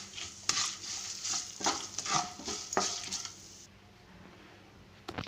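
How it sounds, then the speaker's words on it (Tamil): A spoon stirs and scrapes through a sautéing mixture with asafoetida in a pan for a Navratri prasad, giving a run of rhythmic wet scrapes and clinks over a soft sizzle that ends abruptly and leaves near silence, with one last clink. "இதையும் சேர்த்து நல்லா கலக்கிக்கலாம்."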